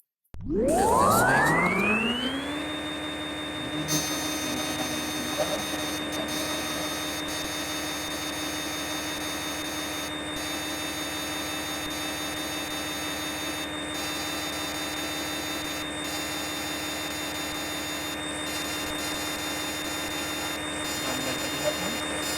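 A CNC lathe on an automatic cycle doing stepped facing and turning work on a workpiece. It spins up with a rising whine over about two seconds, then runs at a steady high hum and rumble, with faint clicks throughout.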